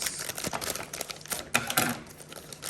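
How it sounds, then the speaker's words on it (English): Close, crisp snips and crinkling as scissors cut through plastic packaging, in short irregular bursts. "let's see if we can get it with these scissors"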